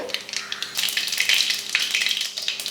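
Mustard seeds crackle and splutter in hot oil, a dense, steady popping sizzle heard close up with no talking.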